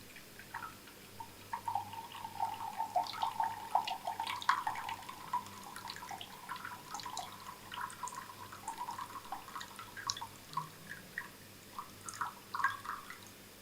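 Water trickles and drips into a container while being measured out for a cement setting-time test, a quiet irregular patter of small splashes with no talk.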